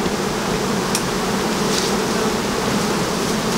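Honey bees buzz at apiary hives in a dense, steady, close drone, with a few brief louder passes of individual bees near the microphone.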